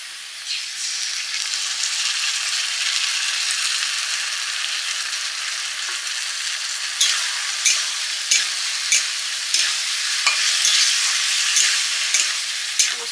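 Poppy seeds are stirred into fried potatoes for aloo posto, a steady close sizzle of frying with a run of sharp spatula scrapes and clacks in the second half, no voices.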